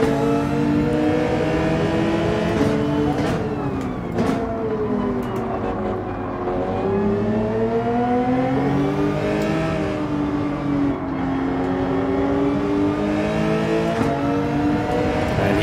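A race car engine in Gran Turismo 7 revs hard out of a corner, its pitch climbing and dipping through gear changes in a loud, continuous, close drone with no talk.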